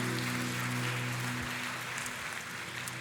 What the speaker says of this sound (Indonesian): Kasih tepuk tangan yang paling meriah buat Tuhan kita.